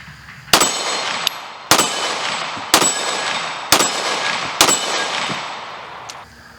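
Five shots from a Canik TP9 Elite SC pistol, each a sharp crack with a ringing metallic clang as it strikes steel plates on a homemade five-plate rack, spaced about a second apart, loud and outdoors.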